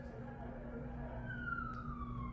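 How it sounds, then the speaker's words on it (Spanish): An ambulance siren sweeps through its wail in traffic, moderately distant, with a sliding tone over a steady low rumble of vehicles and engine hum. "Es una ambulancia."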